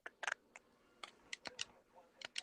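Computer keyboard keys clicking in scattered quick taps and short bursts, faint and close, over a quiet background during a livestream chat.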